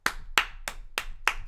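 Five sharp hand claps land at an even, steady pace, close and loud with nothing else around them, closing out a tasting of a German snack box.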